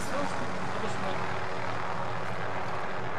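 Steady, loud rotor and engine roar of a helicopter coming in to land in Call of Duty Warzone fills the whole stretch, a dense continuous drone, with some talk faintly mixed underneath.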